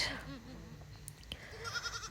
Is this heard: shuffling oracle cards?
no